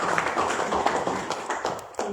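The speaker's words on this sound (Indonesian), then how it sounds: "Berikan tepuk tangan Bapak Ibu." Applause from a seated audience at an Indonesian focus group discussion held by a government investment and licensing office: a dense, even patter of many hands clapping at once, moderately close and sustained, with no voices over it.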